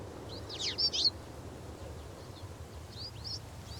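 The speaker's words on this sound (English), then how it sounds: "Inside, 3 chicks had just hatched. They quietly chirped, their mouths wide open" Faint, thin chirps from three newly hatched eagle chicks come in two brief clusters over a quiet background hiss.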